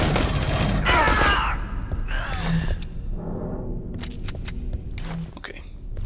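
Pistol gunfire in the video game Aliens: Colonial Marines, a handful of sharp shots spread irregularly across the clip amid chaotic game combat noise, one burst near the start and scattered cracks later.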